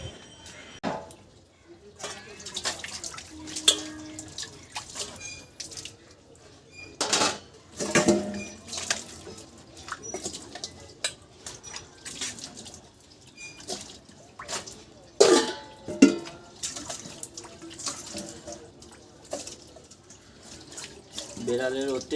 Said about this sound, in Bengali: সব বাসন আমি বার করে দিয়েছি, এক বালতি জল নিয়ে এসেছি, সবকে জল ধোয়া করে ভালো করে ধুতে হবে